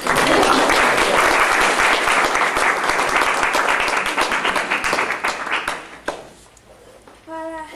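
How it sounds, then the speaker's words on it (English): Loud, sustained applause from a large lecture audience fills the room, then fades out, leaving quieter noise and a brief voice at the end. "give them a round of applause"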